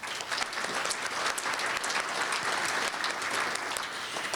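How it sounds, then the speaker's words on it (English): A large audience claps at a United Way centennial breakfast program, dense continuous applause at moderate distance with no speech over it. "I think you all deserve a huge round of applause for that."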